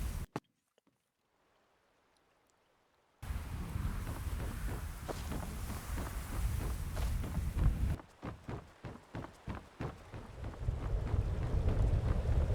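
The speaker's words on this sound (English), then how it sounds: "This foul storm must be an ill omen." Storm wind roaring in the video game The Sidrat, a steady loud gusty rush that starts abruptly after near silence and later turns choppier with rhythmic bursts.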